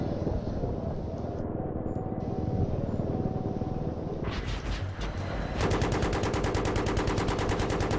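Rapid bursts of automatic gunfire in Battlefield 3, a loud hissing roar that breaks into dense rattling machine-gun fire over the last few seconds, with no voices.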